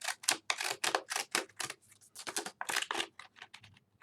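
Zigzag scissors snip through paper in a rapid series of crisp, close cuts, about a dozen bursts with brief pauses between them.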